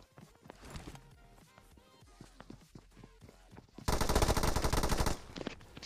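Automatic rifle fire from the PUBG Mobile battle royale game, likely an M416, crackles in repeated bursts under game sounds, swelling into a loud, dense volley near the end before easing off.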